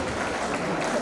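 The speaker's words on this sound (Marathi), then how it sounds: "जोरदार टाळ्या वाजवून तात्यांना थँक्यू म्हणायचं आहे।" An audience clapping loudly to thank a guest at a Makar Sankranti women's gathering: a brief, dense wash of many hands applauding together, steady and full with no pause.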